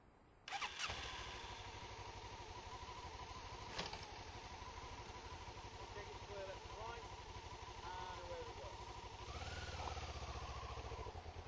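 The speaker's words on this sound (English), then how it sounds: "if you'd like to start the bike up," A motorcycle at a test academy starts with a sudden burst and settles into a steady idle, a continuous engine drone with a brief rev near the end, while a voice speaks over it.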